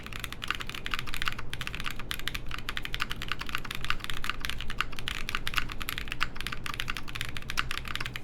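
Mechanical keyboard fitted with linear switches typed on steadily and close up, a dense continuous run of crisp clacks and taps with a slight rubbing quality; no talking.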